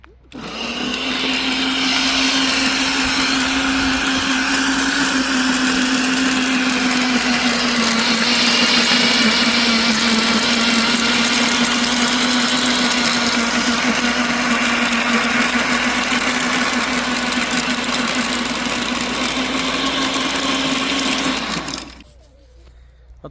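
An electric 1500W garden tiller with a 40 cm working width starts and runs for about twenty seconds with a loud, steady motor whine, close by and alone, then winds down and stops.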